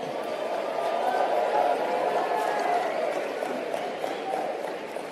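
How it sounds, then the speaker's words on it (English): Audience at a motivational speaking event applauding together, a steady dense wash of clapping that holds at an even level from start to finish with no voices standing out. "Give yourselves a round of applause."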